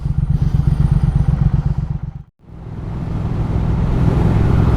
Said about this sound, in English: this motorcycle, the Speed Twin that we're on right now